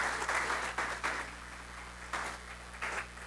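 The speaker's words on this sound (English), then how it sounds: "give yourselves a round of applause" A crowd at a PNM public meeting in Laventille claps in uneven bursts that swell and fade over a steady low hum, the applause moderately loud and somewhat distant.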